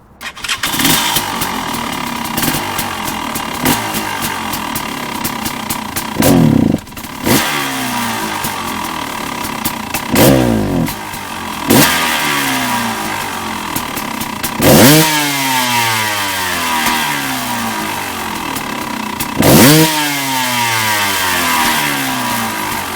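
A KTM two-stroke dirt bike engine running lean with the air screw backed out revs repeatedly, rising and falling in sharp bursts, running rough and uneven up close with no talking.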